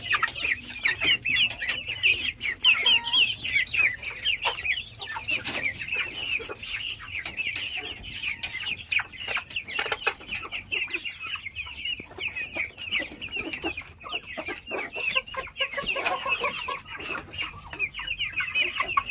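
White Leghorn and Rhode Island Red breeder hens and roosters cluck continuously nearby, a dense flock chorus of overlapping clucks and squawks without pause.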